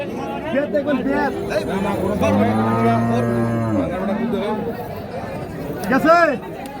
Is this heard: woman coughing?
no